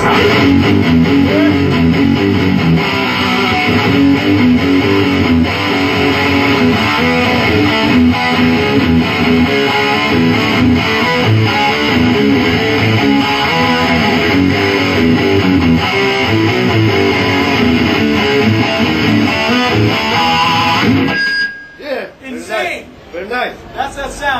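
A Line6 guitar amp model called Insane delivers extreme distortion, with loud, saturated guitar riffing that runs continuously for about twenty seconds and then cuts off, leaving brief talk and laughter near the end.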